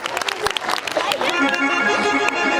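Clapping from a Ramlila audience, dense and lively for the first second or so, then fading as harmonium-like music and crowd murmur take over.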